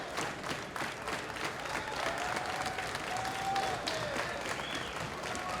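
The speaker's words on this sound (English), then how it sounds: "You hear the crowd coming alive for this great matchup" A crowd at a junior heavyweight pro wrestling match cheers and claps in a continuous roar, with a few whistles rising above the noise.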